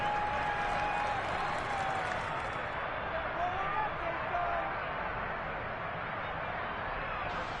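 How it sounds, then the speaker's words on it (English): A home crowd in Madden 23 NFL football applauds as a dense, steady wash of clapping and cheering that holds its level throughout, with faint talk buried underneath. "And the home crowd applauding."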